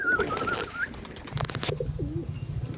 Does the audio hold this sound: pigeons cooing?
yes